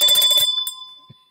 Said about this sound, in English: now that was a commanding ring, Jim.